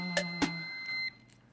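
Continuity test beep from a UNI-T UT39C+ digital multimeter with standard leads, a steady tone lasting about a second that cuts off abruptly, with a couple of short clicks from the probes touching at the start.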